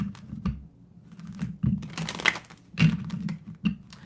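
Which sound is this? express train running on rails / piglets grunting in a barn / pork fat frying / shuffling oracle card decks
shuffling oracle card decks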